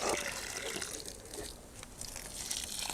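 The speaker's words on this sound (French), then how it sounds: "Je viens arroser au pied, comme ceci." Water poured onto the base of a freshly planted autumn garden plant, a steady close gushing and splashing that runs continuously for a few seconds with no talk.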